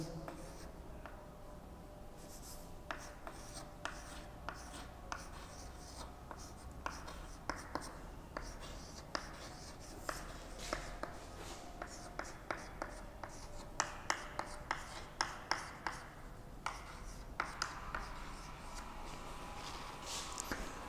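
Pen or marker writing out a worked example during a programming lecture on nested DO loops, a steady run of close scratchy strokes and light taps, with faint speech in the background.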